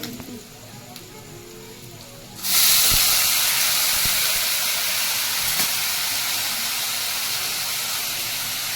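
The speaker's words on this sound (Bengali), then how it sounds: "হালকা একটু জল দেবো" Water poured into hot masala in a pan bursts into a loud, sustained broadband steam hiss after a quieter stretch of low sizzling, staying strong and slowly easing off to the end.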